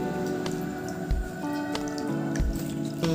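Water drips and splashes in short, irregular bursts while butterfly pea flowers are washed in clean water, with soft squishy handling noises close by and no talking.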